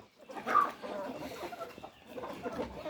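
Dönbaş chickens cluck softly close by in a short, faint sequence of clucks, with a quiet voice in the background.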